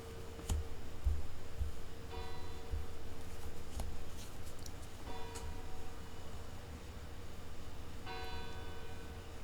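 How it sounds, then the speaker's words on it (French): Several bright bell strikes ring out at intervals over a steady low rumble, each tone hanging briefly before fading, with faint ticking clicks in between. "J'écoute les cloches."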